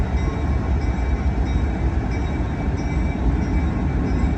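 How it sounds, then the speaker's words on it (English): An ALCO C424 diesel locomotive of the Arkansas & Missouri Railroad sits nearby with a steady, loud low rumble that holds evenly throughout, a faint higher whine running above it. "A&M 32, an ALCO C424, prepares to head south to service a sand pit in Fayetteville."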